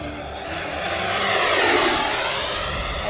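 A radio-controlled jet plane, capable of about 130 mph, streaks past at full throttle with a loud, steady turbine whine that swells as it nears and then eases off, heard alone.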